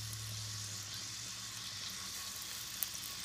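Meatballs frying in a pan of heated butter and olive oil give off a steady, even sizzle, with one small pop near the end and no talk.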